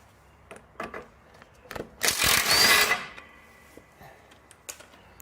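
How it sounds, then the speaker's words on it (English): A hand file scrapes a metal shaving off a pinch bolt during Subaru Outback lower ball joint work, a dense gritty burst lasting about a second amid scattered light clicks and taps of handled tools. "I'm going to get a file and file off that shaving of metal"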